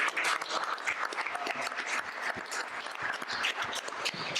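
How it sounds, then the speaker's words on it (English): An audience at a county commissioners' board meeting claps in a sustained, dense round of applause, with no voices over it. "give a round of applause for Chris Malone."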